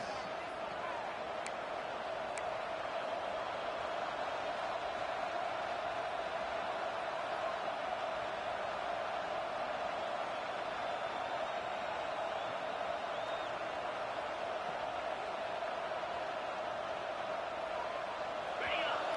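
A stadium crowd in a Texas versus Georgia college football video game keeps up a steady, broad roar with a sustained droning hum, and a commentator talks over it.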